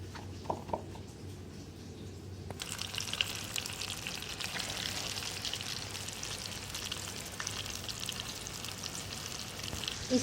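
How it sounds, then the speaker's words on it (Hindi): Fish pieces shallow frying in a pan give off a dense, steady sizzle with popping crackles that starts suddenly after a few quiet moments and carries on close and unbroken. "इसी तरह मैं तमाम जो पीसेस थे उनको वन बाय वन इसमें डाल चुकी हूँ और इसको अब हम फ्राई कर रहे हैं।"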